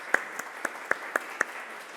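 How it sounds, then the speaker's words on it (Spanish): Scattered, sparse hand claps from a conference audience applauding a camera operator named Pablo, about six separate sharp claps spread over two seconds, fairly faint in a quiet room. "Un aplauso para Pablo también."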